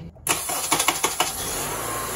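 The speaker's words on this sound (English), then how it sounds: "It's making a horrible sound from the starter" A 2003-2007 Honda Accord engine cranks with a rapid series of rhythmic pulses from a faulty, harsh-sounding aftermarket Denso starter, then settles into a steady running hum; close and fairly loud, no talking.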